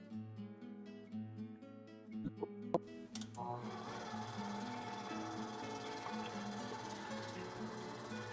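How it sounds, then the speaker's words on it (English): An electric stand mixer kneads enriched Christmas bread dough as butter is worked in, its steady, close motor whir and churning starting partway through and running continuously, with tonal background music heard faintly before and beneath it. "Let's go to the mixer."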